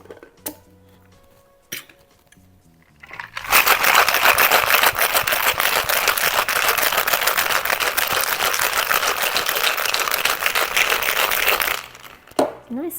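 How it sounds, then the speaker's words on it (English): Cocktail shaker packed with ice shaken hard for a Mai Tai, a loud, steady rattling of ice churning for about eight seconds, with brief handling noises before and after. "So let's give this a shake."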